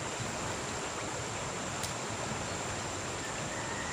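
River water flowing steadily at a riverside spot used for spearfishing, a continuous broad rushing wash with no breaks and no voices.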